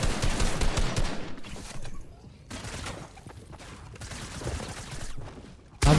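Rapid gunfire rattles in a video game arena match, with dense bursts at the start, then intermittent volleys and a sharp final shot.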